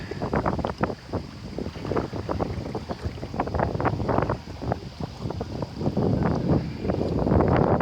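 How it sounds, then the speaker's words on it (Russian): Sea waves wash and splash continuously at a beach park in Kyiv, with wind buffeting the microphone, a rough rushing surf that swells louder toward the end. "такие волны"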